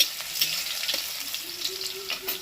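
Crushed garlic fries in hot oil in a home kitchen, giving a continuous close sizzle with light crackles and a few soft stirring sounds on top.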